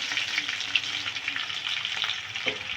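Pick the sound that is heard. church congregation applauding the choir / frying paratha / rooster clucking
frying paratha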